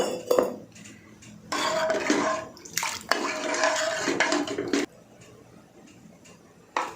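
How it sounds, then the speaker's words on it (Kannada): Water poured into a cooking pot of potatoes on a stove for drumstick curry, two splashy bursts of pouring close up with brief gaps, a few small clinks and quiet pauses between. "ಸ್ವಲ್ಪ ನೀರು ಕೂಡ ಹಾಕಿದ್ದೀನಿ."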